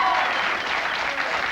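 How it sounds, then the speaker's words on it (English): Studio audience at a late-night talk show cheering and applauding, a dense, steady wash of crowd noise filling the whole moment with no gaps. "sounds like a sports crowd tonight, doesn't it?"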